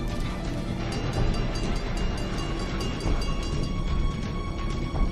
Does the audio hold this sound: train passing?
yes